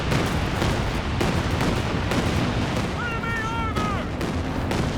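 Machine gun fire and artillery thunder in Company of Heroes 2 during a 2v2 match on a Siberian map. The bursts are dense and continuous, with a whistling shell tone near the end.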